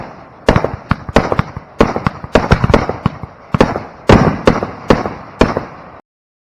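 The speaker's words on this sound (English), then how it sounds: "Always put on a big fireworks show at the family farm." Fireworks go off at a show on a family farm in southwest Iowa. Sharp, loud bangs and crackling pops come in quick, uneven bursts, about fourteen in all, before everything stops abruptly.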